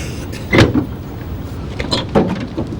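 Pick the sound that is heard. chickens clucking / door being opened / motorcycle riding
door being opened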